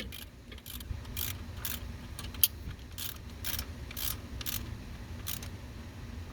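A ratchet snugs a bolt on a 1990 GMC K1500. It gives a quiet, irregular series of short clicking bursts over a low background hum, with one sharper tap partway through.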